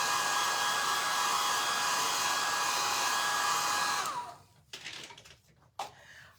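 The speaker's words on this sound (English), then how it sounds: "So I'm just drying this." Hair dryer blowing on stenciled paint on a sweatshirt, a loud, steady close whir that runs for about four seconds, then switches off and leaves a few faint handling knocks.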